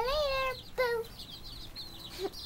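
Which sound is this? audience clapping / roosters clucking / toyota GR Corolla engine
roosters clucking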